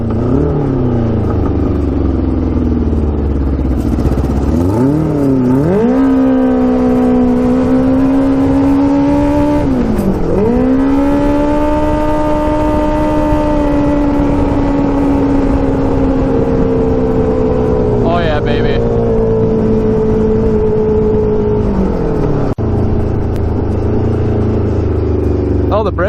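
A 650cc shifter kart engine revs loudly and close during a brake test, its pitch climbing and falling in several sweeps before dropping to a rough idle, with occasional speech under the engine noise.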